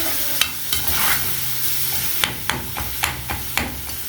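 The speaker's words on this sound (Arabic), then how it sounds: "نرجع نقلب تاني في اللحمة، نحاول نفكها كده من بعضها" Minced meat fries and is stirred in a pan while white pasta with mince is being made: a steady sizzle broken by sharp, irregular scraping strokes of a spoon against the pan, close and fairly loud.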